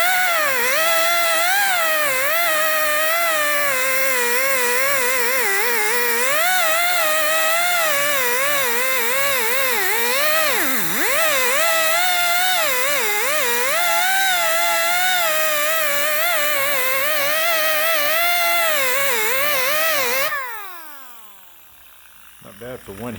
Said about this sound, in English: the air grinder.